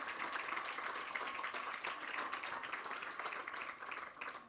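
Audience applause for Austin Tennis Academy staff, coaches and teachers at a scholarship event, a dense, steady patter of many hands clapping throughout, fairly close and sustained before tapering slightly at the end.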